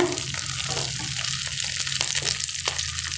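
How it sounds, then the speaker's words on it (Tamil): Onions with curry leaves and green chillies sizzling in a pan for chilli bread, a steady close frying hiss with watery crackle throughout and no voices. "நல்லா வதக்கிக்கோங்க"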